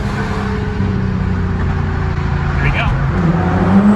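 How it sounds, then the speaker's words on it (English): Nissan GT-R R35 accelerating hard in a straight line, a loud steady engine drone with rising pitch toward the end, heard from inside or close by, with a brief spoken voice over it. "the most special thing about the Nissan GTR is how fast it can accelerate in a straight line."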